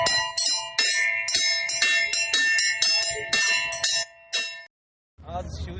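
Temple bells at the Vighneshwar temple in Kopargaon clang in rapid, insistent repeated strikes during a Shiv Sena farmers' loan-waiver protest, loud and bright with ringing tones, then stop abruptly before a brief murmur.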